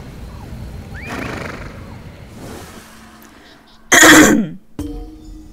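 A horse in The Elder Scrolls Online gives a short, loud whinny or snort near the end, after a stretch of quiet talking. A brief thump follows.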